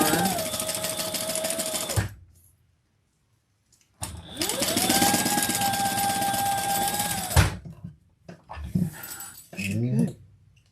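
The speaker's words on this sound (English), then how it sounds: "we're just basting the bottom where our folds are." A home sewing machine basting along the folded bottom edge of an accordion pocket, running in two long steady whirring bursts separated by a pause, then short stitching starts, loud and close.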